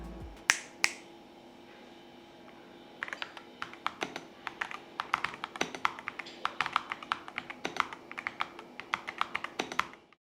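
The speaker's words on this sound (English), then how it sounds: "here is what typing with the RT100 sounds like" Rapid, crisp clicking of keys on an Epomaker RT100 mechanical keyboard, fast and irregular like steady typing, heard close and clear after a few isolated taps.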